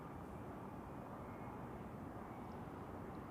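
An Iberia airliner landing at Zurich Airport makes a steady, even, distant jet roar that holds at one level throughout.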